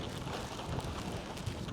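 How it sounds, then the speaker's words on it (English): Steady wind roars and buffets the microphone on a ski slope at Brighton Ski Resort, a dense, continuous rush with no voices. "It's so windy out here"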